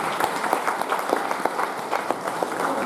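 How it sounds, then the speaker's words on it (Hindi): A crowd at a business seminar in Varanasi bursts into applause, a dense run of sharp claps with some voices underneath. "तो एक बार जबरदस्त तालियां होनी चाहिए आपकी तरफ से।"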